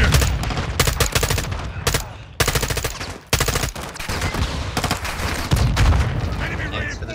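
Dense automatic gunfire from Call of Duty Modern Warfare 2 on PS4, with loud repeated bursts and sharp shots filling the whole stretch and a player's voice talking over the fire.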